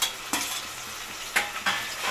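Tomatoes drop into a pan of frying potato kurma with ghee or oil, a steady sizzle broken by a few soft stirring scrapes and plops, close and moderately loud, no voices.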